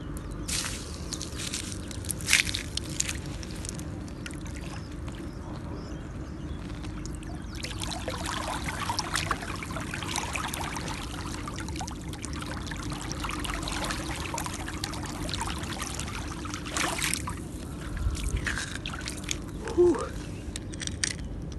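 Flowing water of the cold, powerful Dniester river, a continuous rushing and gurgling wash with occasional splashes, steady throughout and heard close with no talk.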